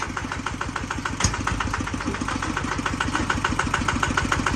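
A 140-horsepower agricultural tractor engine idles close by with a steady, rhythmic diesel chug and a regular pulsing clatter, holding an even level throughout with no talk.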